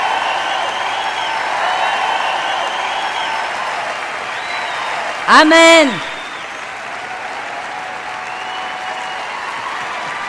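Church congregation applauding through a sermon, broad steady clapping under a preacher's voice, with a brief louder vocal exclamation midway.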